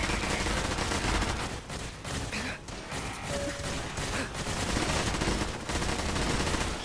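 Robot turrets firing in the arena of the game Fallout 4, rapid, loud bursts of automatic gunfire that keep going with brief pauses and an occasional crash.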